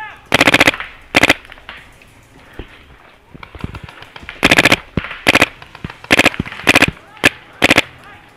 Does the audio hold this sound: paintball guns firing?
yes